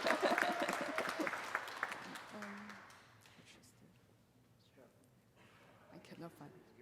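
Audience applause for a professor receiving a teaching award at an Executive MBA graduation recognition ceremony in Shanghai, a loud dense burst of clapping for about three seconds that fades to a quieter tail with some voices.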